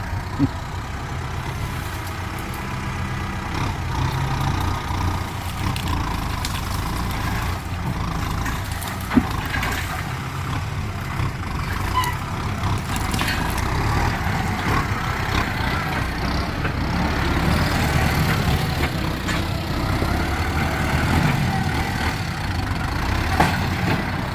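Tractor engine running steadily while ploughing a field with a rear disc plough, a continuous low diesel drone holding at even loudness throughout with no speech.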